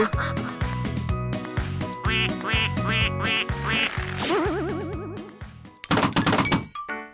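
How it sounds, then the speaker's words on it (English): Cartoon duck quacking in a children's colour-learning song, repeated quacks over bouncy music with a bright jingle near the end. "The duck is swimming in a pool."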